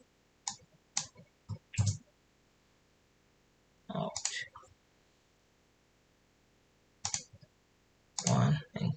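Computer mouse clicks come near and crisp, arriving singly and in short double or triple bursts with pauses between them, in a quiet room.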